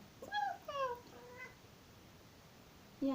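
A cat meows several times, short rising-and-falling calls near the start and another at the end, fairly close over a quiet hiss with a voice faintly present.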